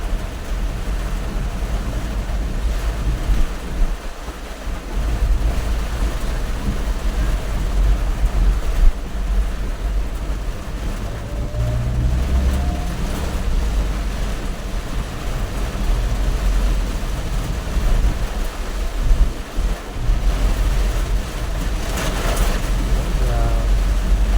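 Strong rushing floodwater pours across a flooded road during heavy rain, a steady loud broadband roar with deep low rumble that runs continuously throughout, with faint voices now and then.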